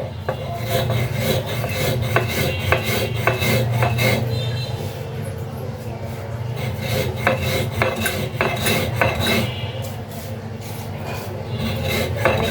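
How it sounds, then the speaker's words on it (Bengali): Sugar is ground by hand into powder, producing continuous close gritty rasping and rubbing strokes with occasional clinks, steady and loud throughout. "তারপর চিনিটাকেও গুঁড়া করে নেব।"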